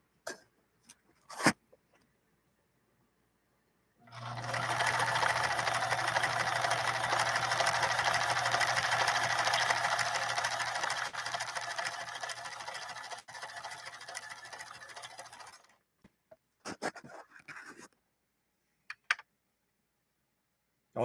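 A Japanese-made Kenmore sewing machine stitches a decorative pattern, running steadily for about twelve seconds with a fairly loud, even whir, preceded and followed by a few brief clicks and handling noises.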